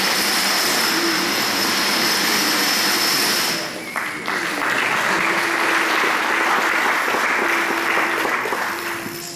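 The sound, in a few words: audience clapping after domino toppling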